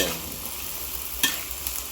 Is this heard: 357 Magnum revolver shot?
no